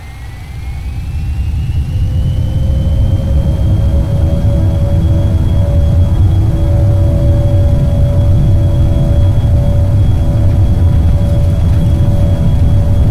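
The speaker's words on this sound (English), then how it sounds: "let's give it full power and depart" Simulated airliner taking off at full power in X-Plane under very strong winds: a steady loud engine roar and whine rises and holds, with a climbing high tone and layered turbine hums, no talk.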